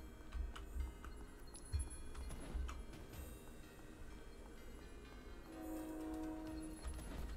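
Train rolling past in a video game, a rumbling low passage with a few heavy thumps and a horn-like tone swelling near the end, under game background sound without speech.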